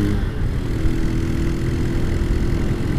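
A motorcycle engine fitted with a Scorpio aftermarket exhaust runs with a steady, low, throbbing rumble close by, holding an even idle-like tone throughout.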